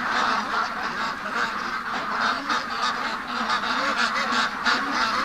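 Ducks being raised for charity call insistently as they try to get out, a continuous overlapping chorus of nasal honks and quacks, fairly close and steady throughout.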